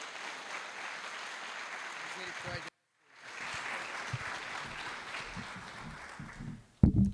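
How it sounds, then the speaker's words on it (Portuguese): Church congregation applause during a service, a moderate wash of clapping that cuts out briefly, then resumes, with a voice breaking in at the end. "Pode aplaudir o nome de Jesus."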